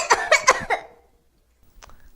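Three quick coughs from someone with a cold, close and fairly loud, followed by a short silence and then a fainter rustle or breathy sound.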